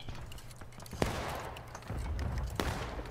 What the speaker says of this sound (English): that's what happens when you have 67 people firing